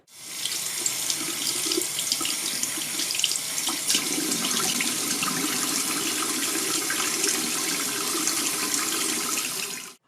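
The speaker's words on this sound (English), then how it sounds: "I'm just going to rinse these off under cool running water" Water runs steadily from a tap into a sink, rinsing silver, a continuous close splashing hiss with slight clatter, no voices.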